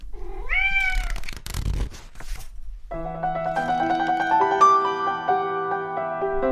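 A cat gives a rising, drawn-out meow followed by a short burst of rustling and a thump, then gentle music with sustained tones plays on its own.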